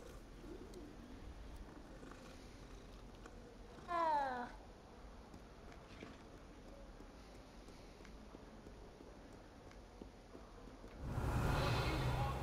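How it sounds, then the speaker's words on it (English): A cat in the video game Hogwarts Legacy gives a single short, rising meow, clear and close, over a quiet ambient game background, followed later by a louder rush of sound. "There's another kitty."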